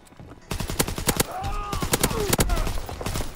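A Sten submachine gun fires in Call of Duty WW2 multiplayer on Winter Carentan, with loud close rapid bursts of automatic gunfire and short gaps between volleys.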